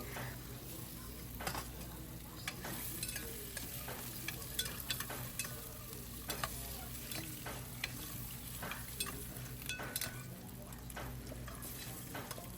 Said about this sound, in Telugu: ఈ కట్ చేసుకున్న బాయిల్డ్ ఎగ్స్ అన్నీ దీంట్లో వేసి కొంచెం లైట్గా జస్ట్ ఒక టూ మినిట్స్ అట్లా ఫ్రై చేసేసుకోండి